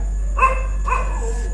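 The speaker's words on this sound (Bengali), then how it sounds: "কুকুর ডাকছে" Two short barks from a dog at night, close and fairly loud, over a steady low electrical hum.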